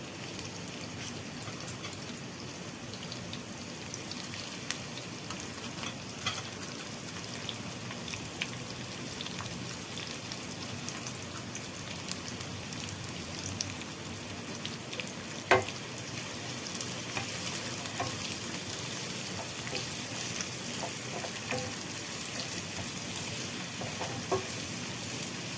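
Four onions, sliced lengthwise, sauté in hot oil for a chutney, making an even, continuous sizzle throughout with scattered small crackles and an occasional stir.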